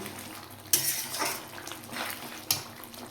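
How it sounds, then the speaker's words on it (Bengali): A spoon scraping and clanking against a pot while a mixed vegetable paneer curry with kasuri methi is stirred, with two sharp metallic knocks and wet, soft swishing between them. "এটাকে ভালো করে নেড়ে নেব"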